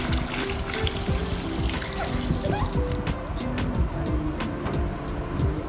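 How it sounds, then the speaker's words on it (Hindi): Lots of water poured into a home fish tank, a steady broadband splashing and trickling rush running the whole time, close and fairly loud, with a soft engine-like hum underneath. "फिर इसके अंदर हम पानी डालते हैं बहुत सारा।"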